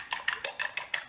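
Eggs being beaten in a bowl for low-carb bagel dough, a brisk run of repeated whisking clinks against the bowl, about six evenly spaced strokes, close and fairly quiet with no talking.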